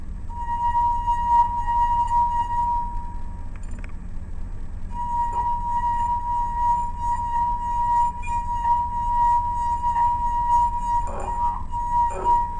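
Water-filled wine glasses ring with a steady, sustained pure tone from a vibrating glass, holding for several seconds over a faint background hum, with light clinks of glass near the end.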